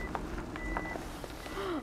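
A Mitsubishi Delica Space Gear PD6W eight-seat minivan gives faint, brief electronic reversing beeps as it backs up, over low outdoor rumble.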